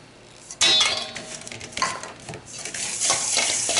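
Spices, flour and brown sugar being mixed in a bowl for a sweet potato pie, a steady scraping and stirring with light utensil clinks starting after a brief quiet, close and fairly loud throughout.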